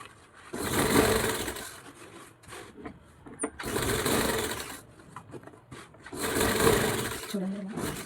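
A sewing machine stitching a blouse runs in three distinct bursts of steady mechanical whirring, loud and close, with quieter pauses between them where faint handling sounds and a voice come through.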